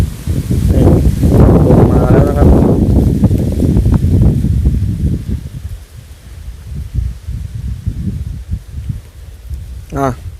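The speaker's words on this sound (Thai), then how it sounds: "อ้าวลมมาแล้วครับ" Gusty wind rushes through the trees of a mountain forest, a loud roar of rustling leaves for about five seconds that then eases into quieter, intermittent rustling.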